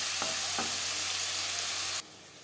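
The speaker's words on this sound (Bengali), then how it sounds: "3-4 মিনিট বেগুন ভেজে নেওয়ার পর" Eggplant frying in a pan, a steady close hiss of oil with a couple of soft stirring knocks, the sizzle cutting off abruptly near the end.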